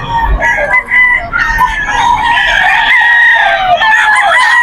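Gamefowl roosters brought to Bocaue, Bulacan crow loudly and close by, with long overlapping calls that fill the whole stretch and no pause between them.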